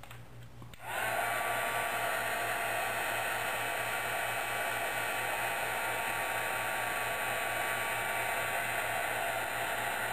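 A handheld heat embossing tool, melting embossing powder, blows with a steady, loud whooshing roar after a brief click on, holding constant with a faint whine throughout.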